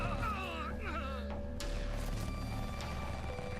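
Bursts of gunfire in the video game Last Epoch crackle amid layered game effects and background chatter, with sharp impacts clustered early and scattered shots later.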